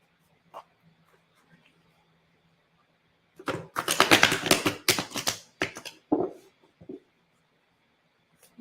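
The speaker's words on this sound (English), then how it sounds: "I'm going to give the cards another good shuffle for you" A deck of tarot cards being shuffled by hand during a live reading, a dense burst of riffling and flapping card noise lasting a few seconds, close and fairly loud, with quiet room sound before it.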